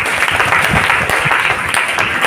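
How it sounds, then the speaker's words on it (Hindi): Students at a motivational seminar at a school in Chhatarpur break into applause, brisk, dense clapping from a crowd heard close and loud, sustained evenly across a couple of seconds. "प्लीज ताली बजाइए।"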